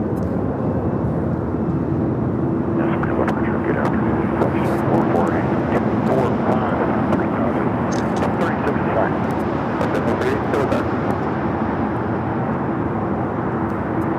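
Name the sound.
Boeing 777-300ER airliner passing at LAX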